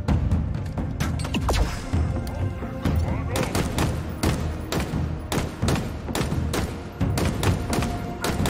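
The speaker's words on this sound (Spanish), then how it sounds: "¡Disparo la torreta!" Rapid bursts of turret gunfire in Halo Infinite pound repeatedly over a dense rumble, with heavy thuds and impacts mixed in.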